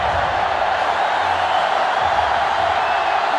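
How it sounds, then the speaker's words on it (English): A steady stadium crowd roar from NCAA Football 2005 during an Arkansas vs. Florida game, a constant, dense wash of massed voices with no breaks or distinct cheers standing out. "So this crowd is making their presence felt."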